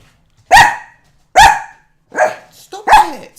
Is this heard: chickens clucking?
no